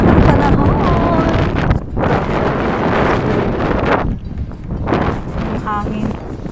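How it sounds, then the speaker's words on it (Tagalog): Strong wind buffets the microphone on a walk outdoors on a very windy day, with loud, steady roaring gusts that dip briefly and return; a voice speaks now and then over the wind. "So windy."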